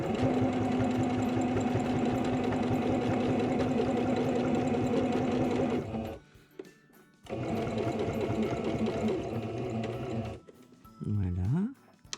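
A sewing machine stitching a washable fabric face mask, running in a loud fast rattling burst of about six seconds, then a pause and a second run stitching back over the seam, with a brief voice in the gaps.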